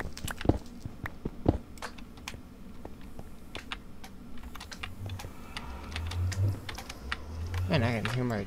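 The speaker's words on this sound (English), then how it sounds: "Man, I can hear my mouse clicks." Rapid computer mouse clicks and keyboard taps while playing a modded Minecraft game, sharp irregular ticks scattered throughout, with low game sounds and a rising warble near the end.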